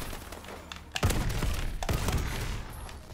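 Turret gunfire in Call of Duty: Advanced Warfare, sharp heavy thuds and bursts over a dense, noisy battle bed, with a couple of strong impacts standing out.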